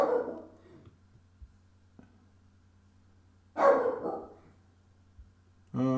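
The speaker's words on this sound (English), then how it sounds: "This very protective little Jack Russell who hears things." Small protective Jack Russell terrier barking indoors, a few sharp, fairly close barks separated by quiet gaps, the last one sounding more like a yelp.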